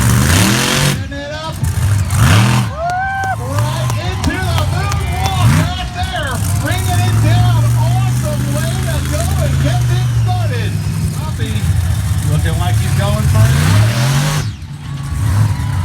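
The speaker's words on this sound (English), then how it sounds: "Mikey Vaters, look at it, balance that monster truck" Monster truck engine revving hard at an outdoor monster truck show, loud rising and falling roars with surges and brief cuts, under an excited announcer's voice and crowd noise.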